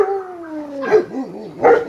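Dogs on a muddy farmyard howl in a long, falling note that breaks into wavering yips and short barks, close by and fairly loud, over a brief stretch.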